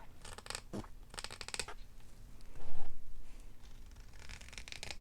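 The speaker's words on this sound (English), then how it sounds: "I'm just going to use my little scissors here. And I'm going to go around." Small craft scissors snip around the edge of paper for a shabby-style journal, with bursts of crisp close-up cutting and rustling paper between them, and no talking.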